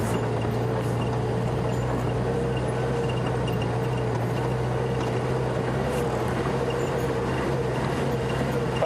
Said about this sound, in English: This is the BMW engine in this car.